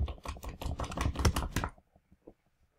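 Quick close-up typing on a computer keyboard, a dense burst of key clicks that stops abruptly and leaves a few faint isolated taps.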